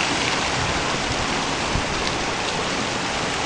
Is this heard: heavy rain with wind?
yes